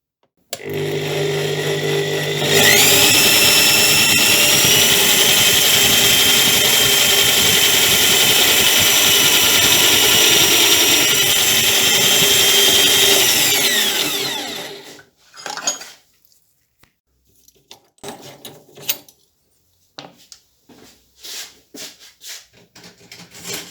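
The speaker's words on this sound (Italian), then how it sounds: "Adesso ci mettiamo su il contropunto, facciamo una foratura, vedere come funziona." A lathe drilling with an 8 mm bit held in the tailstock makes a loud, steady machine whir with a high whine for about twelve seconds, then winds down, leaving scattered clicks and handling noises.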